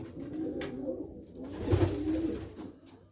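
Homing pigeons in a breeding loft coo softly and repeatedly nearby, with low throaty rolling calls and no talk.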